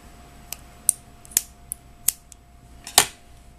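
Scissors snipping crochet yarn on a cup cozy, with sharp, distinct cuts spaced irregularly and heard alone at close range.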